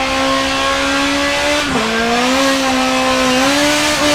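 A race car engine in Forza 7 drones loud and close at a steady high pitch, dipping and rising as the tires spin under throttle, with no talk over it.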